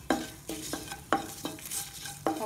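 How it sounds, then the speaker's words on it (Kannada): Cooked lentils are stirred into a sizzling tempering of mustard seeds, asafoetida, chili and curry leaves for temple-style sambar. Six or so distinct scraping strokes sound over a steady sizzle, close and fairly loud. "ಸಾಸಿವೆ ಸಿಡಿತಿದ್ದ ಹಾಗೆ ಬೇಯಿಸ್ಕೊಂಡಿರೋ ಅಂಥ ಬೇಳೆನ ಹಾಕ್ಕೊಳ್ಳೋಣ"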